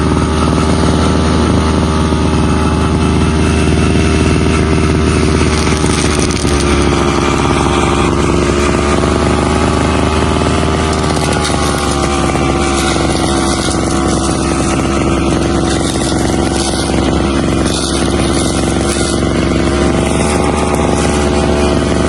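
A grass cutter engine runs while clearing grass in an oil palm plantation, giving a loud, close, unbroken buzzing drone that holds steady throughout with only slight shifts in pitch.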